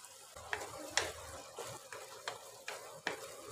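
Half a teaspoon of ginger garlic paste fries in a pan with a steady low sizzle, broken by sharp scraping and clinking strokes of a spoon stirring at irregular intervals, close and moderately quiet.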